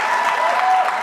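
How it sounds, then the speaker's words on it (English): A crowd at a Harvard Latinx graduation ceremony applauds the performers with loud, continuous, close-sounding clapping filling the hall. "let's give a big round of applause to all the outstanding performers"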